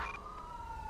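Wailing emergency siren from an ambulance in GTA V with the LSPDFR police mod, a steady sweeping tone that slides gradually downward, moderately loud with no talk over it.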